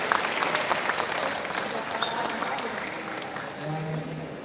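Crowd applause rings out continuously for referees at a futsal trophy presentation, steady and dense clapping that fills the space for several seconds, with some voices mixed in.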